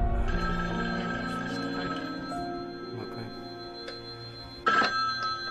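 An electronic telephone ring chimes repeatedly in a Halloween horror video game, over steady background game music and hum, with a brief louder burst near the end.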